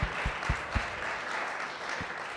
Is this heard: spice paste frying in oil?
no